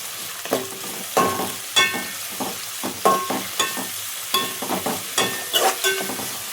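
Chicken fry with coriander and mint being stirred in a pan, with a regular series of scraping, clattering spatula strokes over a soft sizzle, close and fairly loud.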